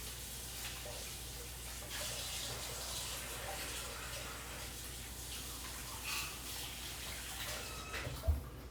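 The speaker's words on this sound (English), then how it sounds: "So I'm going to wash them up quick." Tap water runs steadily into a kitchen sink while hands are washed, a continuous close gushing splash with small shifts as the hands move through the stream.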